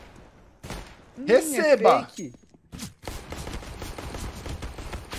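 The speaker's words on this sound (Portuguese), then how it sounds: "que trocação de tiro frenética" Rapid gunfire exchange in Counter-Strike: Global Offensive, with dense bursts of shots after a loud excited shout from a commentator, voices talking over the clatter throughout.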